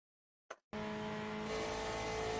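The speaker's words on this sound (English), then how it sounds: "Oh, big lockup right here." A GTE race car locks its brakes at Le Mans in a racing game, a brief click followed by a sustained, high-pitched tire squeal that holds steady and loud for nearly two seconds.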